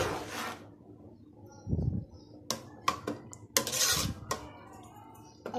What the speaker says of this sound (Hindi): और मिक्स करूंगी।